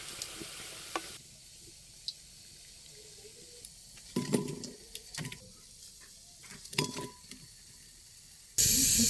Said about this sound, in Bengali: এবার ওগুলো আমি একটু ছোট ছোট করে ভেজে নিচ্ছি